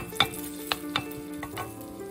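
Ginger sizzles in a hot wok with garlic about to join it, a steady close crackling fry broken by a few sharp clicks and scrapes of stirring.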